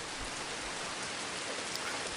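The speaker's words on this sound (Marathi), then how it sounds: "बाहेर आलो तेव्हा पाऊस सुरू झाला होता." Constant, dense hiss of rain falling, even and unbroken throughout, with no voices.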